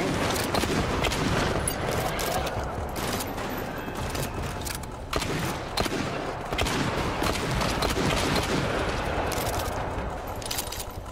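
Rapid rifle fire in the co-op shooter GTFO, dense bursts of sharp cracks and booms in quick succession, loud and continuous with brief gaps between volleys.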